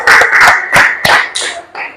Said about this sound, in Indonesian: tepuk tangan buat kelompok auditori